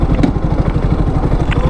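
A 2022 KTM RC200 with an underbelly exhaust idles in neutral, a steady, close, low engine throb with a rapid even pulse and faint mechanical clatter, running alone without talk.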